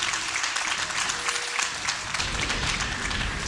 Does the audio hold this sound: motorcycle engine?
no